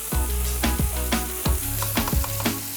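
Cauliflower manchurian stir-frying over high heat, with loud, steady sizzling broken by repeated scraping and tossing strokes of a spatula against the pan about every half second.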